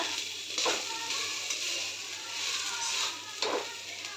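Crumbly saji saag sizzling steadily in a kadai, with a few scraping strokes of a spatula stirring the greens, close and even in level.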